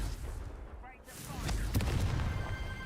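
Blasting spell effect in the Hogwarts Legacy video game: after a brief quieter spell sound, a fiery explosive boom bursts out and rumbles on under game noise and faint voices.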